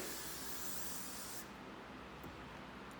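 A steady hairspray aerosol hisses loudly for about a second and a half, then cuts off, leaving quiet room noise.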